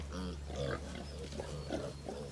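Piglets on a farm grunting and squealing in short, repeated bursts, close and fairly loud over a steady low hum, with faint talk in the background.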